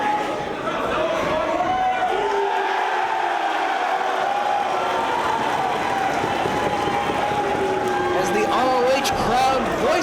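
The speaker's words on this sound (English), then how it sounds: "Crowd voices their support for the American Dragon." Wrestling arena crowd in Philadelphia roaring and chanting in support of a wrestler, a dense continuous wall of cheers and whoops with a commentator talking over it.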